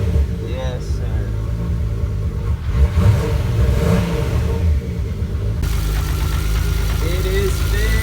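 Six-cylinder engine idling smoothly after a fuel system repair, a continuous low rumble close by, with voices talking over it.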